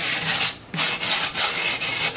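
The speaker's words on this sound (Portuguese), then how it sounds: "Tá usando a lixa velha, mulher?" Old sandpaper scraped back and forth over a cement vase, close and loud, in repeated rasping strokes with a short pause between passes.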